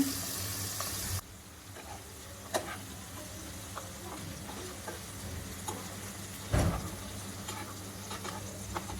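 Prawns marinated in turmeric and chili fry in a pan with a gentle continuous sizzle, with scattered ticks and a couple of louder clanks of a utensil against the pan, heard fairly close with no talking.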